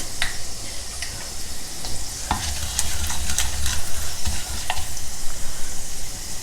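Ajwain, ginger, green chillies and curry leaves fry in hot oil with a dense, close sizzle, while a spoon scrapes and clicks against the pan at irregular intervals.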